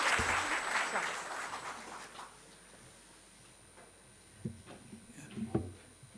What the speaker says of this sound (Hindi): तो एक बार तालियां बजा दें सर के लिए, स्वागत के लिए।